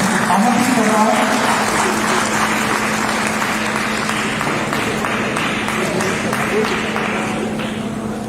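A live audience applauds to welcome a guest to the stage at a Hindi debate show, the clapping dense, steady and loud throughout, with a voice murmuring faintly beneath it.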